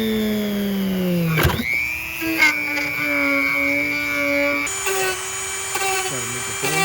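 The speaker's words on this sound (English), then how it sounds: "so we're gonna cut it with the little Dremel" A small Dremel rotary tool cuts through a pre-cut hole in the rocker panel area of a 2024 Mustang RTR, giving a close, steady high-pitched whine that dips and changes pitch as the bit loads up in the material.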